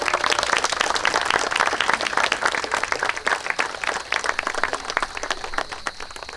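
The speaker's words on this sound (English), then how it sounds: "I hope the rest of you will give them a big round of applause now" Guests at a wedding ceremony applaud the witnesses, a dense, lively round of clapping that fills the room, strong at first and gradually thinning out.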